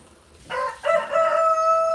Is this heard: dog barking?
no